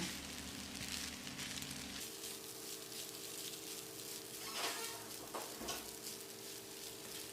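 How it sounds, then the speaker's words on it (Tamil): Egg semiya is stirred and tossed in a pan over low heat, giving a soft continuous sizzle with occasional scraping and clinks of a utensil against the pan. "சேமியாவோட நல்லா கலங்கிற மாதிரி 1 நிமிஷம் நல்லா பிரட்டி விடணும்"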